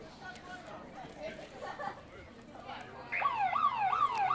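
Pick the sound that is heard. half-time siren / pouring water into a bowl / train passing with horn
half-time siren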